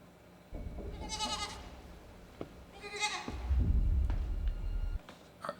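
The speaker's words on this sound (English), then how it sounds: "So are we killing this goat?" A goat gives two wavering bleats, drama-style, from a TV series scene, heard up close over a low rumbling background that swells near the end.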